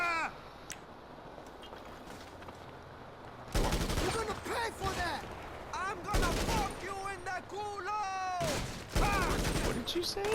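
Gunfire rings out in GTA V during a Cayo Perico heist prep mission: several sharp, loud bursts of shots punctuate quieter background, with in-game character voices chattering between them.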